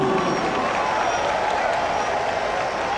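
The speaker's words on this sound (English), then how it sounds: "Let us give him a round of applause." Crowd applause and cheering at a national 60th independence anniversary celebration, a steady wash of clapping and voices heard from some distance throughout.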